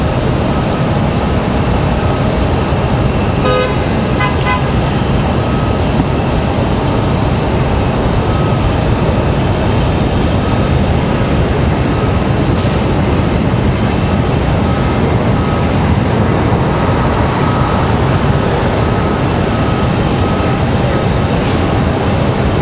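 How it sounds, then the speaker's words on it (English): An Embraer E190 airliner arriving from New Orleans at Raleigh Durham roars loud and close, a dense continuous engine rush filling the whole stretch with no talking. "This is going to be Moxie 330 coming in from New Orleans."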